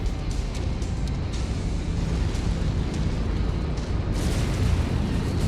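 Explosions from the MechWarrior 5 Mercenaries video game, a dense rumbling barrage of booms and blasts layered over continuous battle noise, loud and sustained with no talking.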